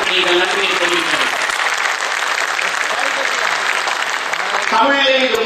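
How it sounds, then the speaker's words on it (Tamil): A crowd at a film trailer launch event applauds in a long, loud burst of clapping, with a voice talking over the start and end. "உங்கள் கரகோஷத்தோடு அவர்களுக்கு நீங்கள் நன்றியை தெரிவிக்கணும்"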